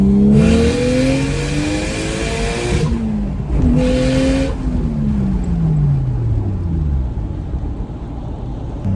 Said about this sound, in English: I'm sure you know what external gate sounds like, but let's hear it from my car.